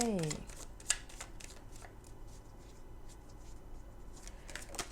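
A tarot deck is shuffled by hand during a reading, producing soft repeated riffling and flicking bursts, fairly quiet and close, with a voice briefly at the start.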